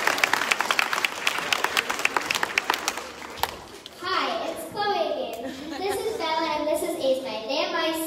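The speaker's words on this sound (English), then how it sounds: "So let's give Navia a big clap and she heads back to India." An audience at a school whānau gathering claps in a brisk, uneven patter for a few seconds, then gives way to children speaking and singing close by.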